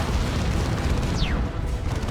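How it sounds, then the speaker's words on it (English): Creeping barrage explosions rumble through a Dawn of War 2 multiplayer battle, a dense continuous roar of heavy booms with a brief descending whistle of an incoming shell partway through, loud and sustained. "There's a creeping barrage"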